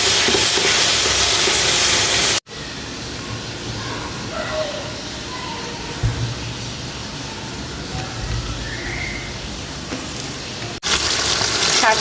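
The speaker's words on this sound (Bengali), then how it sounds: "সেই কড়াইতে যে মাছ ভাজছি" Fish fries in oil in a kadai, with a loud, broad sizzle at the start and the end and a quieter, softer bubbling hiss in between.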